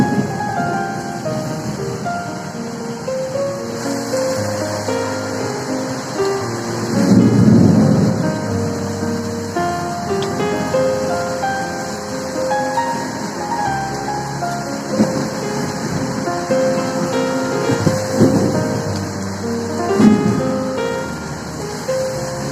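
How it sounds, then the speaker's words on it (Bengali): Heavy afternoon rain pours in Kolkata during the monsoon, a constant wash of rainfall with gusting wind and low rumbles of thunder swelling a few times, steady and without talk. "সারা দুপুর বৃষ্টি হয়েই চলল। পাগলের মতো হাওয়াও বইছিল, আর তার সাথে মেঘেদের গর্জন।"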